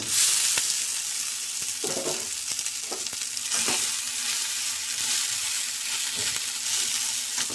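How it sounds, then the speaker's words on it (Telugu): Cooled cooked rice is tipped into a frying carrot mixture with garam masala in a pan, making a steady sizzle broken by several soft scrapes and thumps of stirring, close up and without talk. "ఇప్పుడైతే మనం చల్లారి పెట్టుకున్న అన్నాన్ని అయితే వేస్తున్నాం రైస్ని అయితే వేసేస్తున్నాం"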